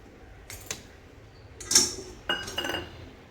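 Coconut tipped into a pan for dry roasting for Satari goda masala: a few sharp clinks and scrapes of a metal utensil against the pan, close by, with short bursts separated by quiet.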